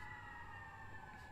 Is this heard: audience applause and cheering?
no